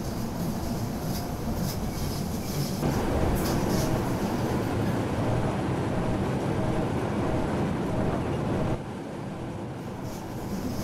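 A train in a Rhaetian Railway simulator runs on the Engadine line, with a steady loud rolling rumble and rail noise that holds for most of the stretch, then drops in level near the end.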